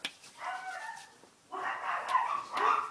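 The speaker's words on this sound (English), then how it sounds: "My dogs are barking." Dogs bark and whimper indoors in two bursts of yapping, a shorter one early and a longer, louder stretch after a brief lull, fairly close.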